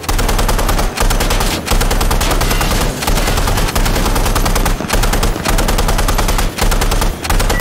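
Sustained, loud machine gun fire from a technical's mounted gun in Insurgency: Sandstorm, a near-continuous rapid burst stream with a few brief pauses throughout.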